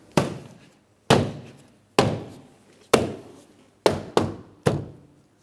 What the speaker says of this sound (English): I'm going to tap it in all the way around the door panel